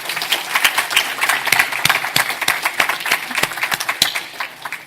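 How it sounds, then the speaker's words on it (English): An audience at a utilities Q&A session applauds its panel, with close, uneven individual claps sounding in a quick irregular rhythm throughout. "I think we should give our panel a round of applause"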